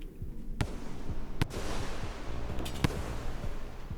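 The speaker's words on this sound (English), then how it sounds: "That explosion like startled me a lot, actually." Sharp explosion bursts from a video game sound out over a busy, rumbling game soundscape, with one loud crack early, another near the middle and a third later on, all fairly faint overall.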